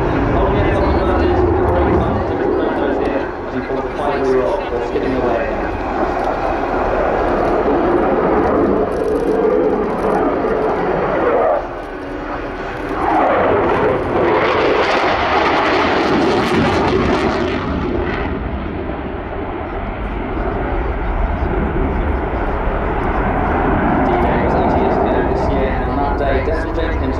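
A Eurofighter Typhoon jet performing an air display at RIAT 2024, its engines a continuous powerful roar that swells and fades as the aircraft passes, with a commentator talking over it.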